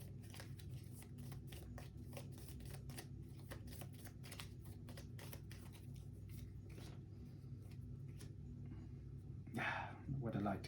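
A deck of playing cards for the Lord of the Rings card game is shuffled by hand on a table, a quiet run of rapid crisp riffling clicks, with a brief louder rustle near the end.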